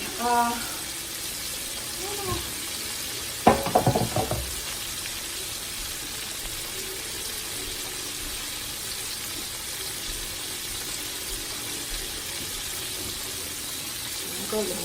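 Food fries in a pan at home while dinner is cooked, a steady low sizzle running throughout with a brief clatter of utensils near the start.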